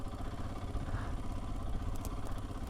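Royal Enfield Himalayan 411 motorcycle engine pulling up on torque alone with no clutch, a steady close mid-pitched drone with a faint clattery pulse running evenly throughout.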